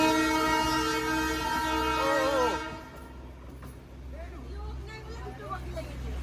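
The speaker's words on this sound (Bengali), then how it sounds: "কেমন লাগলো সুপার টয় ট্রেন" A toy train on a hill railway near tea gardens sounds a loud, sustained horn for about two and a half seconds. Afterwards people talk over a low, steady rumble.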